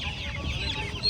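Fancy feather-footed chickens at a busy poultry market cluck in a steady, close murmur of overlapping calls, with no voices in the brief stretch.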